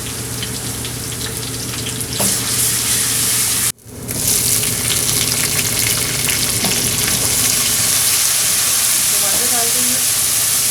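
Garlic frying in two tablespoons of hot oil for dhaba-style daal mash, a steady loud sizzle and hiss that runs throughout, with a brief dropout partway through.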